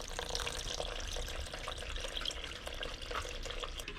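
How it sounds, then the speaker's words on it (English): Warm water pours steadily into a bowl of sourdough starter set on a kitchen scale, a continuous soft splashing and gurgling close by, with no talk. "we're going to add 650 grams of warm water"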